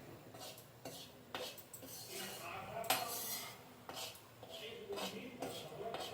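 Flour being slowly roasted in a pan while stirred with a metal spoon: repeated scraping and clinking strokes of utensil against cookware, fairly quiet, with faint voices in the background.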